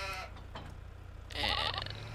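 Sheep bleat in Farming Simulator 22 on a farm with sheep and goats, one short cry near the start and a louder, longer bleat near the end, over a steady low game hum.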